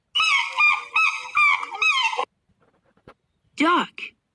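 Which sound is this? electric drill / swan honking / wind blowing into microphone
swan honking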